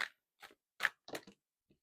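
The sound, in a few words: cat chewing on something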